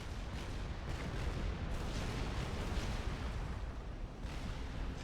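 T2 artillery in the strategy video game Supreme Commander: Forged Alliance, a quiet, continuous rumbling barrage of distant blasts and booms with no voices.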